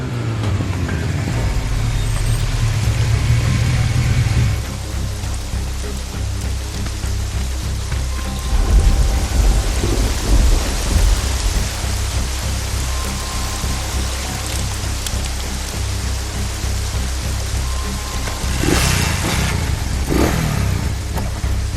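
Heavy rain pours steadily throughout a Tamil movie scene, with a deep low rumble of thunder underneath and occasional louder gusts of noise.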